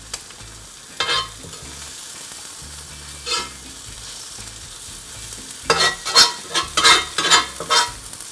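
Onions fry with a soft sizzle in a pan for poblano tacos, broken by scraping stirs that grow busier and louder near the end, with no voices.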